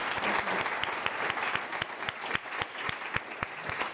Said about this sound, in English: Can we get a round of applause for our speakers once again?